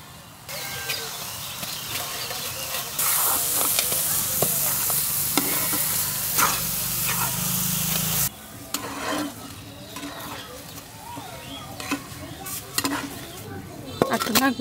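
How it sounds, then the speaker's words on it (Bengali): Ghee sizzles loudly in a pan while beetroot halwa made with powdered milk is stirred in a village kitchen. A burst of frying hiss rises for several seconds, then settles to scraping and clinking of the spoon. "এখন হচ্ছে আবারও ঘি দিয়ে দিব।"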